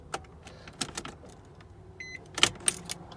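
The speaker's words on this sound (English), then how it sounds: "I can hear the solenoid retract, so I know it's good" A solenoid retracting in a 2006 Infiniti FX35 gives a few sharp, close mechanical clicks, with quieter clunks and a brief electronic tone just before.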